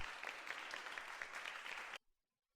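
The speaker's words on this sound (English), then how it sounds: "I heard the audience clap." A school-play audience in a video game breaks into steady, moderately quiet clapping from many hands that cuts off abruptly into silence after two seconds.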